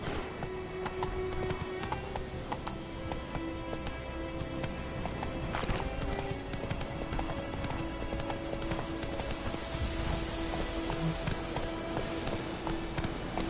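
A horse gallops in the rain in The Witcher 3, a rapid continuous clip-clop of hooves under a constant wash of rainfall, with a brief whinny.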